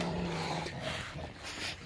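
Low, rough growling from a tiger, a steady rumbling snarl that rises and falls over a couple of seconds, close by and fairly loud, with no one talking.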